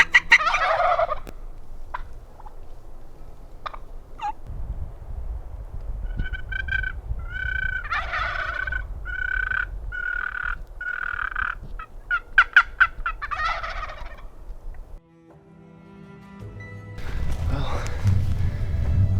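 Wild Merriam's turkeys gobble in a rugged Black Hills bottom, several loud rattling gobble bursts close by amid rustling and footsteps, with a low voice murmuring near the end.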